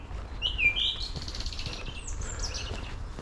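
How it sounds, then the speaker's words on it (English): Several species of birds sing in woodland along a disused railway cutting in Norfolk, with clear chirps and warbled phrases close by over a soft outdoor hush. "Plenty of birds song all around, different species you can hear."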